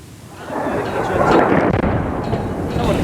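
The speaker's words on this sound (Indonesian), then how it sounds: "Sejumlah ledakan terjadi di Bandar Udara Internasional Sana'a di Yaman." Explosions from Saudi missile strikes hit Sana'a International Airport in Yemen, a loud rolling blast that swells after half a second and rumbles on through the rest of the clip.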